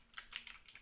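Computer keyboard keys clatter in a quick, uneven run of close taps while someone types Java code, with no talk over them.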